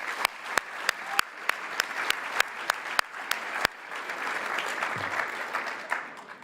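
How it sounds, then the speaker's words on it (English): Round of applause from the audience at a Camp Fire Columbia fundraising event, steady crowd clapping with loud, sharp, evenly spaced claps from one nearby person standing out over the first few seconds, then the ovation continuing more diffusely. "let's give all of our sponsors and our partners a big round of applause."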